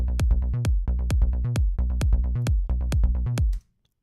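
Looping trance bass drop with a steady four-on-the-floor kick drum driving a pulsing synth bass line, repeating evenly bar after bar, loud and close, then stopping abruptly.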